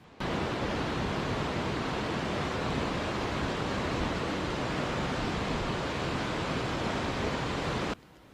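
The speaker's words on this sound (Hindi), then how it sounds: "ये हज़ारा आबशार से बह रहा है और ऊपर से अम्ब्रेला आबशार का पानी भी इसमें शामिल हो रहा है।" Water from the Hazara waterfall near Havelian, Abbottabad, joined by flow from the Umbrella waterfall upstream, rushes in a loud, steady roar. The broadband wash holds constant, close and unbroken, then cuts off at the end.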